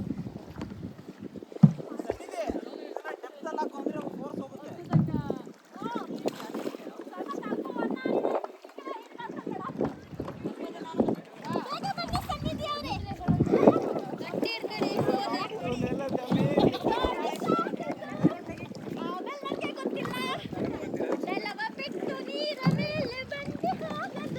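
Boat motor and water noise run steadily beneath lively talk from several people, with occasional knocks and splashes.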